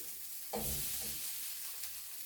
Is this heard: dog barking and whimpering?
no